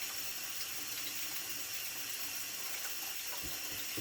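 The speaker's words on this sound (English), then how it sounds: "Wash your hands, soap and water." Tap water runs steadily into a sink during handwashing with soap in a home kitchen, a continuous close hiss of flowing water with no voices.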